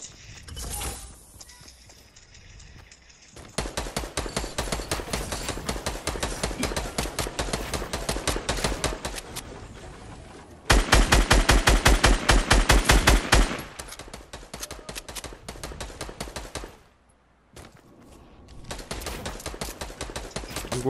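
Gunfire in the Fortnite video game comes in rapid automatic bursts, separated by short pauses, with one especially loud close stretch midway through the long sequence.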